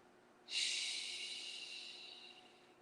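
A single sharp breath through the nose during a yoga class, a sudden airy rush that starts abruptly and fades slowly over two seconds, close and alone in a quiet room.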